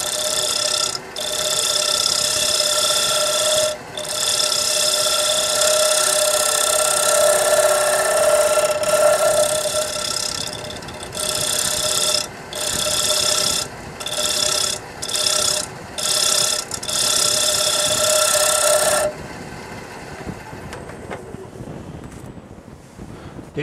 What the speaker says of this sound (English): just sharpen my scraper